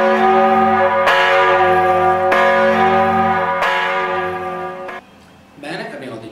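A church bell tolls loudly and close by, four resonant strikes at an even pace, each ringing on into the next, before fading into quieter background sound.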